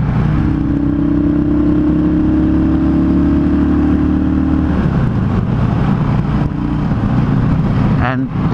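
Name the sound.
Yamaha V Star 650 motorcycle engine revving with pod filters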